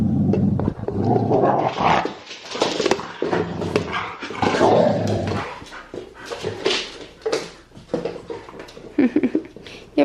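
Dogs playing indoors, growling and whimpering with occasional barks in close, busy bursts, while a voice is heard talking intermittently.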